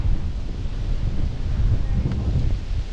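Strong wind buffets the microphone in low, rumbling gusts that swell and ease, loud and continuous throughout.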